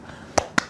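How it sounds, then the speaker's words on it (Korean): Two sharp hand claps, a single clapper applauding in a Korean talk-show studio, spaced about a fifth of a second apart and heard close against a quiet room. "저절로 박수가 나오는."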